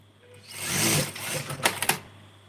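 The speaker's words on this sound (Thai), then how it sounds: "หลังจากที่เราผ่าแล้วนะคะ เราก็เย็บทับคิ้ว ประมาณ สิบหกนะคะสิบหกมิลนะคะ เราก็จะมาล็อกปากกระเป๋านะคะ" A sewing machine stitches along a trouser pocket opening, locking the pocket mouth after topstitching about 16 mm, with a steady whirring run that rises and fades, then a few sharp mechanical clicks near the end.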